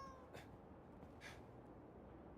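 A cat in the video game Indiana Jones and the Great Circle gives two brief, faint meows over a steady background hiss.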